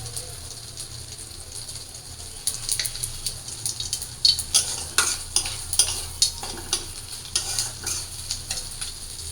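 Cumin seeds dropped into hot oil in a wok, quiet at first, then breaking into loud crackling sizzle bursts and popping spatters that continue unevenly under stirring sounds.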